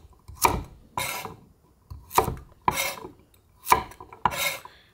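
A knife slices chestnuts on a cutting board in six close, crisp cuts that come at an uneven pace, each a short scraping crunch with quiet gaps between, and no voices.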